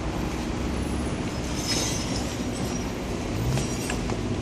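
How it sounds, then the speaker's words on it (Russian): A tram rolls past on a busy city street, with a continuous rumble of rail wheels and traffic and faint squeals and clatter, loud and steady throughout. "И вот второй трамвай, в нем люди."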